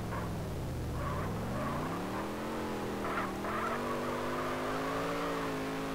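Car drifting in GTA San Andreas multiplayer, engine tone rising and sweeping steadily while tires squeal in bursts, loud and continuous like game audio, with no talking.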